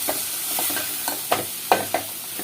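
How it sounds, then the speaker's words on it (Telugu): A spoon stirs bottle gourd coconut curry with coriander in a pan over a soft background sizzle, giving several close scraping strokes that grow sharper toward the end. "వేసేసుకొని చక్కగా కలిపేసేసుకుందాము."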